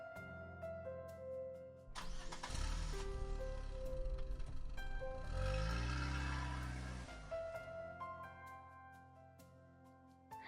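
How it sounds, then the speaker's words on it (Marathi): A car engine cranks and catches, surging into a loud revving hum that rises and settles back to idle, set against soft background music in a dramatized story. "त्याने कार स्टार्ट केली आणि ते आता परतीच्या प्रवासाला निघाले"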